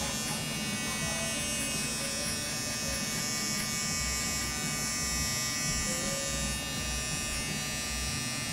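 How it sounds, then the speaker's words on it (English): A Gamma Evo electric hair trimmer buzzes steadily and close up while cutting the first guideline of a low fade in a barbershop, a continuous even hum with no talk over it. "I'm gonna start with the making my first guideline with my Gamma Evo trimmer"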